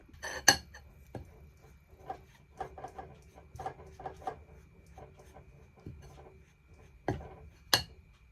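Ghee is worked into jalebi batter with a utensil, giving soft scraping and a few sharp clinks against the bowl, quiet and intermittent, with no talking.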